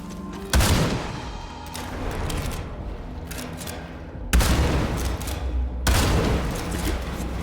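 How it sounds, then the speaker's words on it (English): Gunfire in the video game Sulfur: three loud, sharp bursts of shots, each followed by a rumbling tail, close and dominant with no talking. "The gun is firing now."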